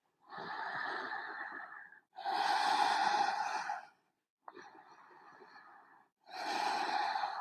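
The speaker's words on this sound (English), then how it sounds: "Two more deep breaths." Slow, deep, audible breaths taken during yoga relaxation, about four long inhales and exhales, quiet and close, with a short pause between each.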